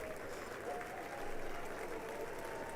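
A crowd in the chamber at the State of the Union cheers and applauds in a steady, dense roar that swells slightly midway, with voices mixed into the noise.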